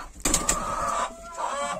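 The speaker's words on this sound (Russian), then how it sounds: "Петя петушок." A Faverolles rooster in a chicken coop gives a short burst of clucking and crowing calls, close and fairly loud, with a second call trailing after.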